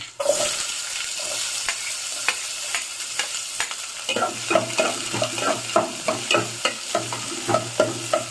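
Onions sizzle steadily in hot oil, browning for a chickpea flour sambar, while a spoon scrapes the pan in regular stirring strokes.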